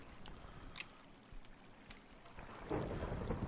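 Thunderstorm in the Minecraft video game: steady rain hiss with low thunder rumbling, swelling louder near the end, with no voices.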